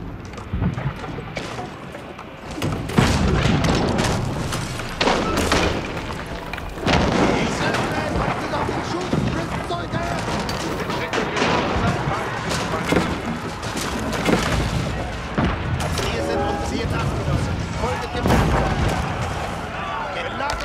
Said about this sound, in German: Wir werden angeschossen!